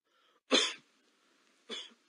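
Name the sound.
heavy cough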